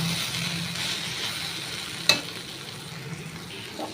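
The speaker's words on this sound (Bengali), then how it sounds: "ভেন্ডিটা একটু ভাজা ভাজা হয়েছে, তারপর লবণ দিয়েছি।" Okra frying in a pan, a soft continuous sizzle close by with one sharp clink of a utensil midway, no speech.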